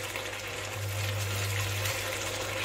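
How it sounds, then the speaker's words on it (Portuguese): Vegetable or meat broth poured into a pot of risotto as it cooks, a steady liquid gush and sizzle lasting throughout, fairly close, with a low steady hum underneath and no talking. "Você coloca o seu caldo de legumes ou de carne, o sabor que você quiser."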